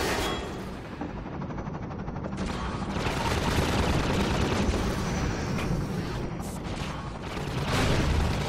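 Rocket launcher fire and explosions in Half-Life 2: Episode One, a sustained, loud roar of blasts and booming impacts that never lets up, with no speech over it.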